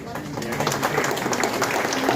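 Audience applause at a 6G technology event held at Nokia in Bangalore, a steady patter of many hands clapping throughout while a voice speaks over it.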